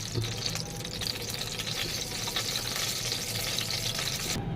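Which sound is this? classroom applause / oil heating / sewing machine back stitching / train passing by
oil heating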